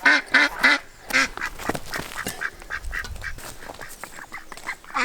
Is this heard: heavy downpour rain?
no